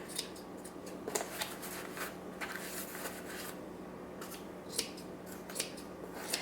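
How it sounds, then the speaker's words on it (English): Scissors trimming yarn against a piece of cardboard while shaping a large pom-pom, a run of close, crisp snips and rustling yarn with no talk. "But what you're going to do is just trim against the cardboard here."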